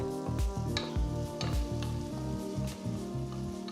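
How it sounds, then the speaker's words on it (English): Chopped onion, garlic, ginger and green chilies sautéing in a pan for a vegetable soup, a close, continuous sizzle with a rhythmic series of spatula scrapes and stirs. "Saute for a few minutes."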